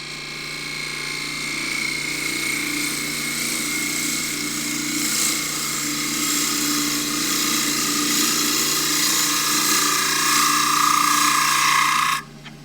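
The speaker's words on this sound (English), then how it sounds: "Rattling, this hollow sound means just pressing a bit too hard" A gouge cuts a Tasmanian blackwood bowl spinning on a lathe, giving a steady, loud, rattling hollow scrape with a constant motor hum beneath, running unbroken for about twelve seconds before cutting off abruptly.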